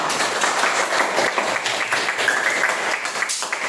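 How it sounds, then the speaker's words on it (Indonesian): A classroom of students claps together, a dense, even patter of applause that holds steady throughout. "kasih tepuk tangan"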